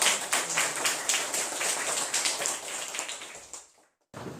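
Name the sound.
class clapping for classmates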